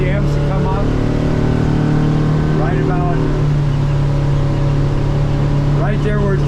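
Outboard engine on a 2023 Duckworth 20 Navigator boat on the water, a loud steady drone that climbs in pitch as the revs rise, with someone talking over it.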